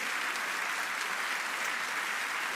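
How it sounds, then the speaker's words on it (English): An awards-ceremony audience at the EFL Awards applauds the League Two Team of the Season with dense, continuous clapping that stays steady and fairly loud throughout, with no voice over it. "So a huge round of applause, please, for the stars of this season's League Two."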